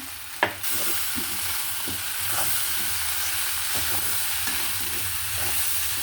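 Cooked chana dal fries in a pan with a steady, close sizzle, broken by repeated scraping stirs and a sharp clack at the start.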